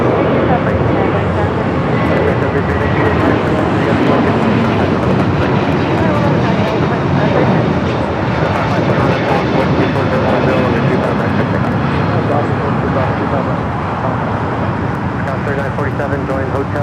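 Jet airliner engines roar loud and continuous at Los Angeles LAX airport, a broad, unbroken wash of noise with radio voices talking over it.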